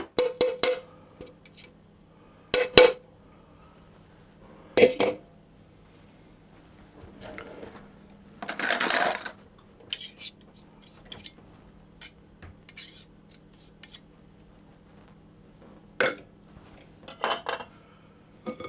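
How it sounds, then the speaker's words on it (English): Shortbread dough flavoured with tangerine and cardamom being tipped into a bowl, heard as scattered sharp clinks and knocks of utensils against bowl and pan, a brief scraping rustle in the middle, separated by quiet gaps. "So I'm going to tip that out into a bowl"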